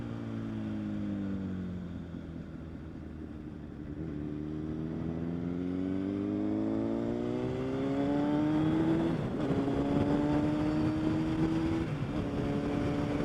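A Honda CBR1000RR motorcycle engine hums steadily up close, then revs with light throttle in smooth rising sweeps that climb, drop back and climb again, staying loud throughout with no voices.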